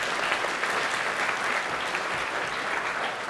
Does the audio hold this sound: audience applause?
yes